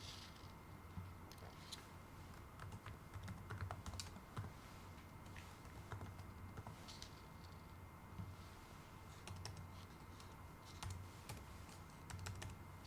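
Someone types a test card number on a computer keyboard, a steady run of quiet, rapid key clicks over a low background hum, with no talking.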